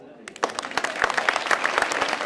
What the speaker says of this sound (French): nous allons nous séparer sur les applaudissements du public